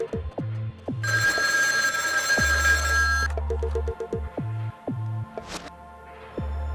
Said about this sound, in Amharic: ጅብም ስልክ ይደውላል እንዴ